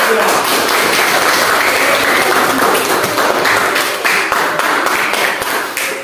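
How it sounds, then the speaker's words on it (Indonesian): A classroom of students applauds group 3 during a teaching practice lesson, with dense, steady clapping that fills the room for several seconds, mixed with voices, and begins to thin near the end. "silakan kasih tepuk tangan untuk kelompok 3"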